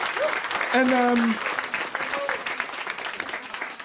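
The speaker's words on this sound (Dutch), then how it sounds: "Applaus." An audience claps in steady applause throughout, while a voice speaks briefly over the clapping near the start.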